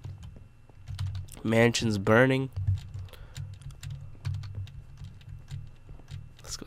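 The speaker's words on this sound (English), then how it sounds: "Keyboard's breaking." Computer keyboard keys clatter in quick, irregular bursts during Minecraft play. Someone talks briefly over the typing, and a low hum runs underneath.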